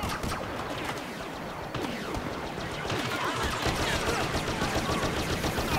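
Turret gunfire in the Star Wars Battlefront video game, a dense, continuous rattle of blaster shots and in-game battle noise that stays loud and busy throughout.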